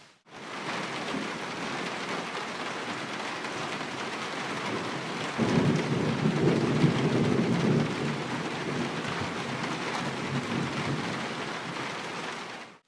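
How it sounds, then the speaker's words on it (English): Heavy rain moving in over an outdoor grill area, a dense continuous hiss of rainfall that swells louder partway through, with low rumbling thunder underneath and no talking. "rain's coming in"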